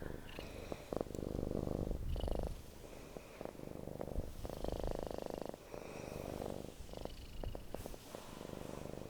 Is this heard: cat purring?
yes